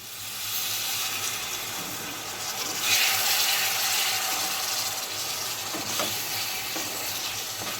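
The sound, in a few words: water poured into Bengali rohu fish curry, sizzling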